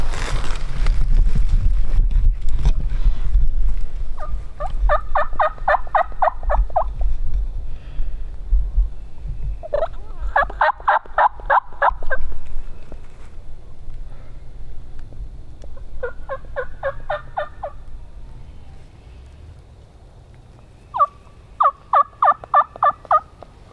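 Wild turkey gobbling in the woods during turkey season, four distinct rattling gobbles spaced several seconds apart, moderately distant and clear over a quiet low rumble, with no voices.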